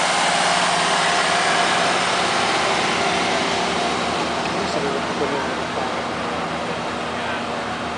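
Steady mechanical chugging of a Deutz-Fahr tractor engine running at idle, a continuous low rumble throughout with faint outdoor noise.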